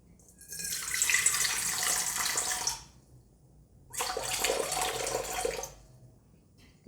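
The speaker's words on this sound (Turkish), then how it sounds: "Şimdi öncelikle 270 gram suyumu koymakla başlıyorum." Water pours into a bowl for sour-dough simit dough in two steady splashing streams of about two seconds each, separated by a short pause, close and fairly loud with no talking.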